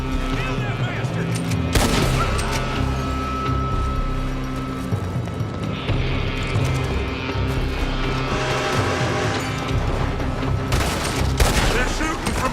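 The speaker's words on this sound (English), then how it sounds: "They're shooting from that building!" Gunfire during a Red Dead Redemption 2 shootout on Xbox One, loud sharp shots cracking over a dense game soundscape of engines, skids and shouting voices, with sustained rumble beneath.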